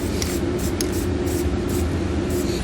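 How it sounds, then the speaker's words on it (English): Black or clear spray paint hisses from an aerosol can onto bare metal under a 2021 Chevrolet truck bed, a loud, steady, close spray with faint rattling, no voices. "take some spray paint, black, clear, whatever you want to use, and we're going to spray the bare metal"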